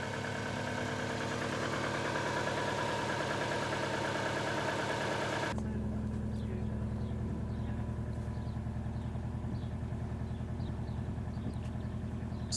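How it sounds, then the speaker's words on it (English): A Subaru engine idles steadily with an even, low purr that continues throughout, with no talking. "purrs. Look at that idle."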